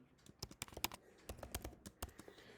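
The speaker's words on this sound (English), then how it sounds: "let me type my password here" A password is typed on a computer keyboard as a quiet, irregular run of sharp key clicks, in short bursts with brief pauses between them.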